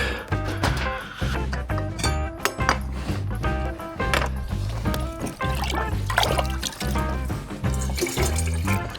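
Lake water drawn from an ice fishing hole inside an overnight ice hut on Lake Nipissing is poured for coffee, a steady close splashing gurgle running throughout, busy and continuous with no talk.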